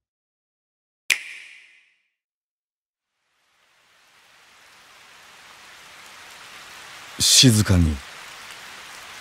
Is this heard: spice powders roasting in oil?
no